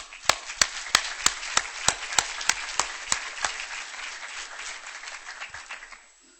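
An audience at a hospital grand rounds lecture applauds to welcome the speaker, with a row of distinct sharp claps standing out over a moderate, even spatter of clapping that thins and fades after about six seconds.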